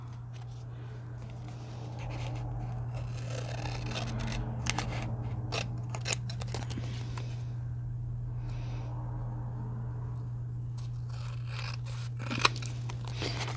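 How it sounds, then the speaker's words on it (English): Scissors cut out homemade prompt playing cards, giving repeated close snipping and paper-cutting sounds at an uneven pace over a low steady hum, with short pauses between cuts. "Now just cut following the cards."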